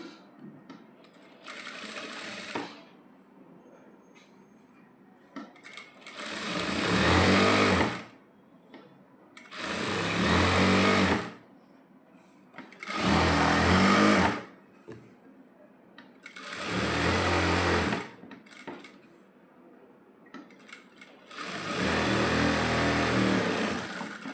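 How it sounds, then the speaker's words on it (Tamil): A sewing machine stitches a seam on a coat in five separate loud bursts of rapid whirring, each lasting a few seconds with quiet gaps between them, close by. "இங்கே ஒரு ஹாஃப் இன்ச்சு நான் தையல் போட்டுக்கிறேன்"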